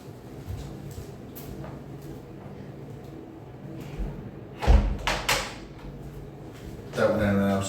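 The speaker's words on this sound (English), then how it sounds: "I've just got to close my bedroom door" A bedroom door is shut nearby with a soft thud and a short rattle of the latch, then another bump follows. A person speaks before and after.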